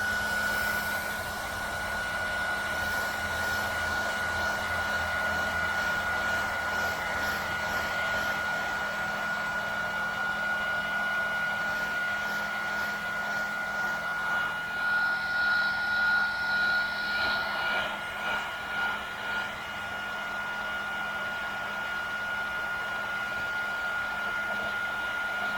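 A heat gun blows a steady, close whooshing hiss with a constant high whine while warming faded fiberglass trim on a 1994 GMC Stepside pickup, running continuously with slight wavering near the end.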